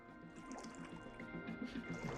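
Rushing, bubbling water filling and rising in Genshin Impact, a steady watery wash with faint drips and tonal game music layered throughout.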